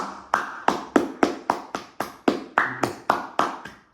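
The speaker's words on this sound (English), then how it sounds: "Okay, now hands clapping" Hands clapping during a yoga exercise, about a dozen crisp, evenly spaced claps at a brisk steady rhythm, close and alone.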